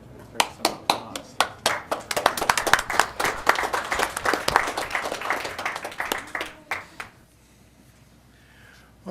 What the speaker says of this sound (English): There's some applause.